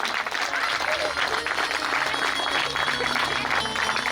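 A crowd of devotees at a Shiv Puran religious discourse claps for the accompanying musicians, producing a dense, continuous wash of applause that holds an even loudness throughout.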